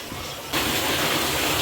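A shower runs with a steady broadband rush of water that jumps louder partway through and then stays constant, with no talking.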